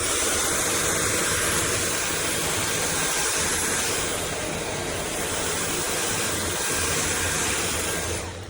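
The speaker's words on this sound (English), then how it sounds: "This is a review of the Dyson V8 Animal Vacuum." A Dyson V8 Animal cordless vacuum cleaner runs without pause, giving a loud, steady whine with airy hiss, close by and with no voices over it.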